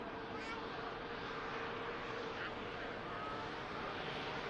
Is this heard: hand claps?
no